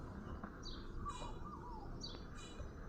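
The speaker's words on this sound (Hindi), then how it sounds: "बड़े खूबसूरत जे कबूतर है ने" Soft, repeated bird calls over a steady hum of background noise, with cooing tones that fit pigeons gathered close by.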